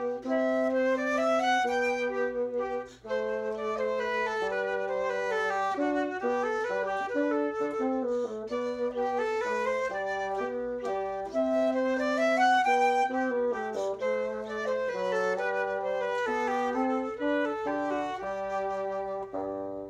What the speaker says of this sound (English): What you just heard was a minuet.